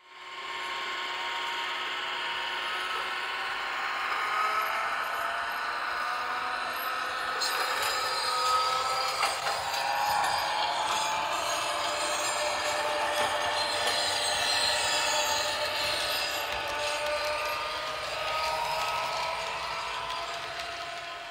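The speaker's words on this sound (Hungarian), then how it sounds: "be fogja kapcsoltatni a hangos mozdonyokon a csikorgás az ívbent és a kitérőn" A model locomotive with sound runs through curves and turnouts, its wheels squealing in long, wavering high tones over a steady mechanical running noise, moderately loud and sustained throughout.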